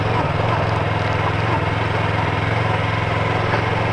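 A motorcycle engine runs steadily close by with a low, constant drone and no change in revs, heard on a rural road that follows the old Maria Fumaça railway route toward the Ilhéus mill.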